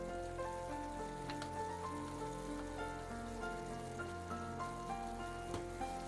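Ghee sizzling in a pan while carrot halwa fries, a steady crackling hiss with scattered pops, close and continuous, with a faint tonal hum underneath and no talking.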